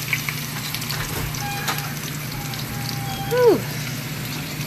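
Zucchini chips frying in hot oil, a steady soft sizzle running throughout at moderate level, with a brief exhaled remark from a person near the middle.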